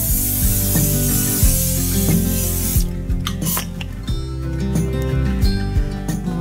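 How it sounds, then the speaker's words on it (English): An avocado oil cooking spray hisses in a short burst onto a pan, then fades into light scraping and background kitchen noise. "let me get my avocado spray out. Forgot to spray my pan right here."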